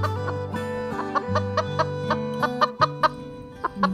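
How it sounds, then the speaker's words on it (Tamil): A hen just caught and carried to its coop clucks in a rapid, close series of short calls, some sharper and louder toward the end, with no talk over it. "இந்த கோழியை புடிச்சிட்டு வந்துட்டேன்"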